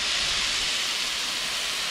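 Steady, close hiss of a Cadac Carri Chef 2 gas barbecue burner running after ignition, broad and unbroken with no talk over it.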